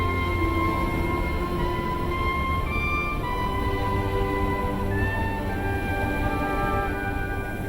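A heritage train rumbles steadily along the track, a continuous loud roar with faint metallic tones and squeals riding on top, no voices.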